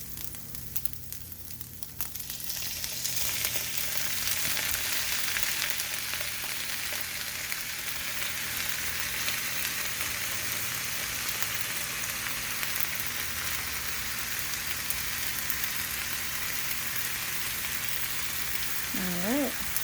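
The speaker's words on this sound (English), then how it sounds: "So now I'm just gonna add the pasta sauce." Pasta sauce poured onto cooked ground turkey in a hot pan breaks into a loud, steady sizzle that fills the kitchen and holds evenly to the end.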